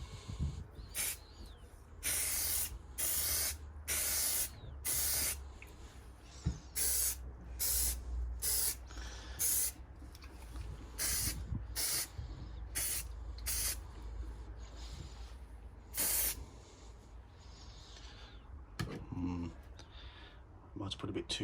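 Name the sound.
Hammerite hammered spray paint coat on motorcycle fuel tank bracket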